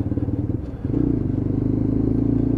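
A Lexmoto LXR 125 motorcycle accelerates through a roundabout, its single-cylinder engine chugging and then rising into a loud, steady, buzzing throttle note after about a second, heard up close.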